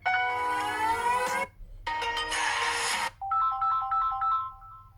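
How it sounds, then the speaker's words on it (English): Default ringtone on a Samsung Galaxy S22 Ultra phone plays loud and close, a bright melodic electronic tune in three short phrases separated by brief gaps, with no talking. "And here we have ringtone options. By default, it's this one,"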